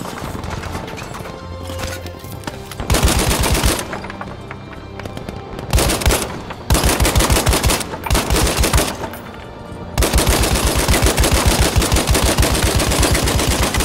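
Light machine gun fire in Battlefield V, loud rapid bursts of automatic shots in several stretches with short pauses between, ending in a long sustained burst.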